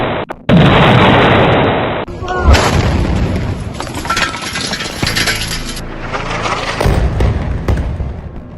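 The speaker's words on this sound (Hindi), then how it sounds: "टारगेट लॉक होता है और तभी होता है एक जोरदार धमाका।" A heavy explosion from a drone strike on a Hezbollah weapons depot, with loud booming blasts and thuds echoing over several seconds alongside rumbling debris noise, with no talking.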